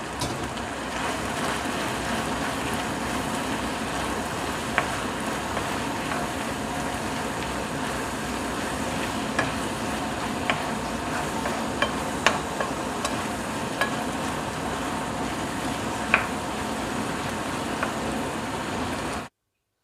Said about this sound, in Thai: ผัดหมูสับใส่หน่อไม้นะคะ